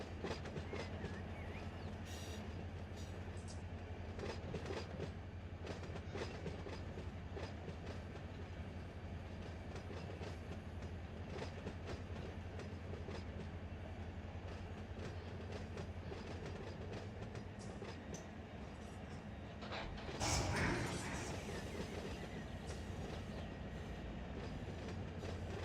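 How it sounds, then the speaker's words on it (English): A train rolls along in the railroad simulator Run 8, a steady rumble with rhythmic wheel clatter running continuously, then a brief louder burst of noise near the end; no talking. "Go back to the train and ride it back."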